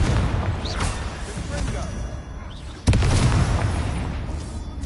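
In the Hogwarts Legacy video game, a Confringo blasting spell sets off a sudden booming explosion about three seconds in. Rumbling game sound runs under it before and after.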